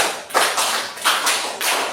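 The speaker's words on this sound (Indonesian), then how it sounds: "Tepuk 1, tepuk 2, tepuk 3, tepuk 1, 2, 3." Hand clapping in a classroom, loud and close, struck in groups of three sharp claps with brief gaps between groups, no voices over it.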